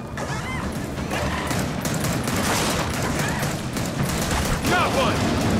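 Rapid bursts of gunfire and crashing impacts from the Gears of War 4 video game fill the scene continuously and loudly, with voices calling out over the dense battle noise.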